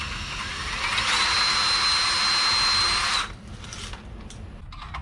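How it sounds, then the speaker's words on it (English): A power tool, likely a drill-driver, unbolts the belt tensioner on a Ryobi garage door opener, a loud steady whine for about three seconds with a rising pitch, then stops, leaving faint workshop noise. "Unbolt the tensioner."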